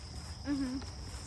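Cicadas outdoors in summer give a thin, steady, high buzz that runs under the whole moment, with a brief voice sound partway through.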